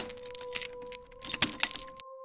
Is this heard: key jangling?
yes